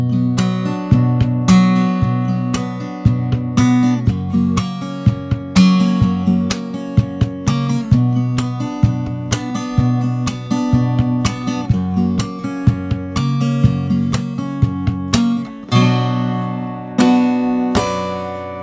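Acoustic guitar played with percussive slap and bass technique, strummed chords punctuated by sharp body slaps and thumping low hits in a steady, driving groove, loud and close with no talking.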